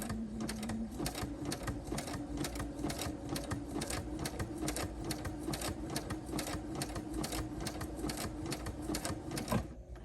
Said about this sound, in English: that's when I will change my setting up to the zigzag stitch, and then I do 12 of the zigzag stitches.